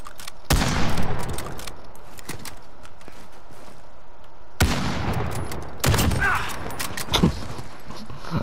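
Uzi submachine gun firing in Call of Duty: Modern Warfare, in two loud broadband bursts of rapid shots a few seconds apart, the second burst followed by scattered further shots and impacts over a steady background.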